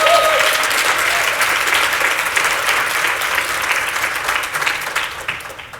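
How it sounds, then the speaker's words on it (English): A conference audience breaks into a big round of applause, loud, dense clapping that holds steady throughout and tapers only slightly near the end. "That deserves a big round of applause."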